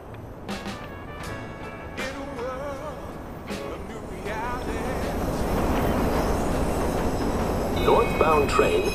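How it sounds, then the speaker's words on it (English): A train in the GTA V video game pulls in, its rumble building steadily over several seconds with screeching wheel squeals and metallic tones on top, while a voice speaks briefly near the start. "Train arriving shortly."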